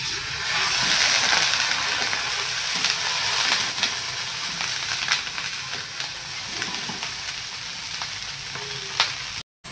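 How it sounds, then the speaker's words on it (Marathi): Paneer cubes fry in hot oil in a pan for a village-style Haryanvi paneer dish, giving a loud, continuous crackling sizzle with scattered pops and light stirring, alone with no voices. "पनीर फ्राय करून घेऊया आपण"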